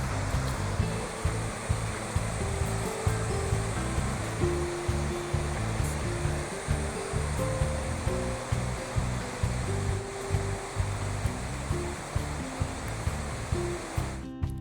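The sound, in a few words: waterfall, water rushing down a hill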